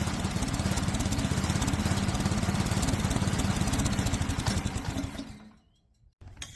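An Ariens snowblower engine runs loud and steady up close, then sputters and dies out in the final second as its fuel is cut, leaving near silence with a brief trailing rattle.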